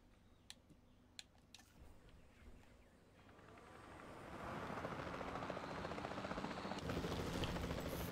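A helicopter in the video game Jurassic World Evolution 2: a few sharp clicks, then a rotor drone that swells in and holds loud and steady to the end.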